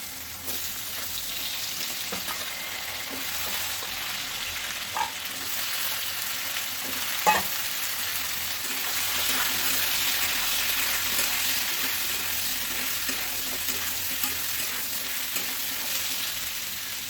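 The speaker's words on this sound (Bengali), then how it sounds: "এখন এর মধ্যে লাউগুলো ভেজে নেবো ভালো করে" Bottle gourd pieces frying with green chillies in a pan give a steady, even sizzle for the whole stretch, with a few soft clicks of stirring. No one speaks.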